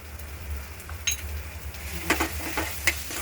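Spices, including Kashmiri red chilli and pav bhaji masala, being stirred in a hot pan, a steady soft sizzle with several scraping and tapping strokes of a spoon.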